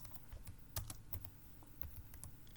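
Keystrokes on a computer keyboard as a Linux command is typed in, a quick irregular run of close, sharp clicks and taps with no voice over them.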